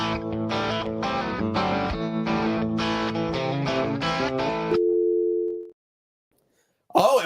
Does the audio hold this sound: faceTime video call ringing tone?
yes